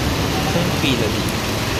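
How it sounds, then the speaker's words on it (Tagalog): Heavy rain at the Laoag bus terminal in Ilocos Norte, a dense, steady hiss of downpour filling the whole short stretch, loud and even with no talk. "Ayan, ang lakas ng ulan."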